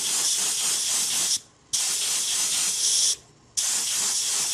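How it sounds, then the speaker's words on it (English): Spray can misting gloss black paint: loud, close bright hissing bursts, two short pauses breaking three sustained sprays. "the first thing I do is I just kind of put on just a real light mist, just like this"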